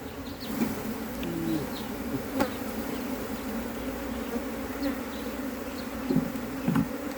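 Honeybees buzz steadily around a hive in a low, continuous drone, with individual insects humming close by now and then.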